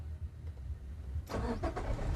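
A manual car's engine cranks and catches about halfway through, turning a quiet interior into a close, steady rumble with uneven surges as it settles toward idle.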